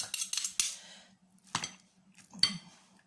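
A few sharp metallic clinks of spoons knocking together, in three short clusters separated by quiet pauses, close up over a faint hum.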